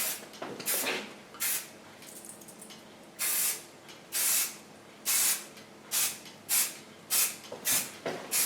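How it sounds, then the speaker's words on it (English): Lanza flexible hairspray hisses from an aerosol can onto hair in a string of short, close bursts, some single and some in quick pairs, separated by brief quiet gaps. "it's beautiful hairspray"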